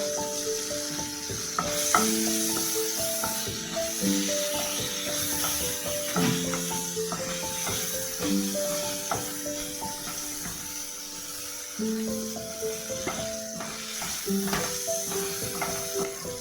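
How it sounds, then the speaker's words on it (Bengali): Whole spices (cloves, cardamom, cumin seeds and a bay leaf) sizzle steadily in hot oil, a continuous crackling fry with light stirring and occasional pops, close and moderately loud, with no talking. "লবঙ্গ আর ছোটো এলাচ হোটেল একটা একটু ফাটিয়ে দেবো এবার দেবো একটু গোটা জিরে আর একটা তেজপাতা"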